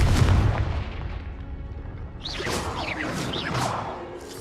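Confringo fire spell explosions in Hogwarts Legacy combat: a rumbling blast at the start, then several whooshing, crackling bursts in quick succession, loud and close with no speech.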